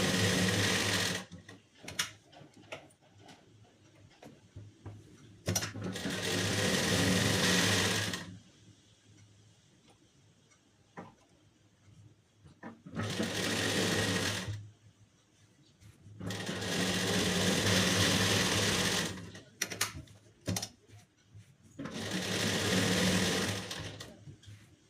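A sewing machine stitches lining onto a blouse piece in several sustained runs of fast whirring stitches, separated by quiet pauses with light handling and clicks.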